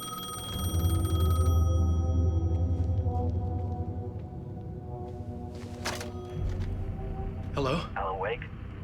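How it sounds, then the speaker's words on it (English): A payphone rings in the video game Alan Wake 2, a steady electronic tone repeating over a low droning ambience, with short vocal sounds near the end. "The payphone was ringing."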